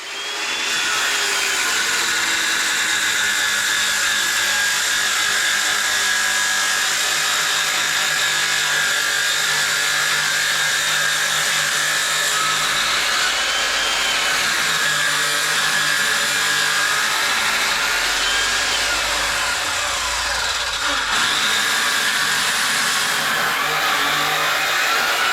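A power saw cuts steadily through pine wood in one long, loud, continuous run with a dense whirring roar close by, and no talking.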